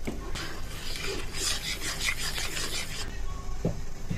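Chopped ginger is pounded and ground together with spice powder in a mortar, a rough, continuous grinding and rasping with uneven strokes and a couple of sharper knocks near the end, close and alone.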